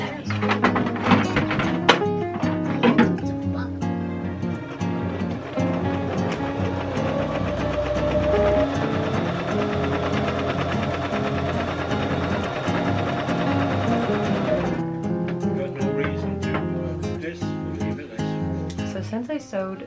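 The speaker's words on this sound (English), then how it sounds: "So I'm gonna put those seams together and sew." A sewing machine stitches the seams of a plaid skirt in a steady, continuous run of about seven seconds, with pauses and handling thumps before and after, alongside background music.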